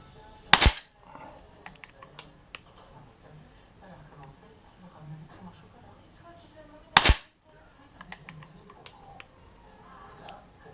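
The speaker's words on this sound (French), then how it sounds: "j'ai trouvé deux nouvelles techniques là pour armer mon arme avec le red dot" A Beeman P17 air pistol fitted with a red dot sight fires Gamo Expander pellets: two sharp, loud snaps about six seconds apart, separated by soft clicks and handling noises from cocking, with a low voice in between.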